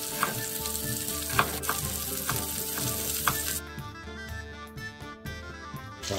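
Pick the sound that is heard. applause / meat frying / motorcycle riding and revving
meat frying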